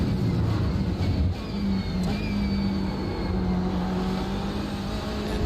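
A BMW M8 race car laps the Catalunya historic circuit in the iRacing simulator, heard from the cockpit as a steady, loud engine drone with rising and falling revs through gear changes and corners.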